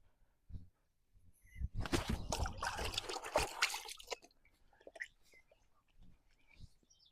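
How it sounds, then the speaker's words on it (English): Water runs from a tap as hands are washed outdoors beside a fire pit, a few seconds of splashing flow followed by faint drips and small handling noises. "Wash my hands."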